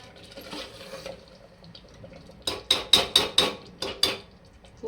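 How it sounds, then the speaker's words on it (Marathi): A pressure cooker lid is closed and locked after cooking chicken, producing a burst of five or six sharp metallic clanks in quick succession near the end, preceded by softer handling noises in a quiet kitchen. "आता हळू कुकर पॅक करूया"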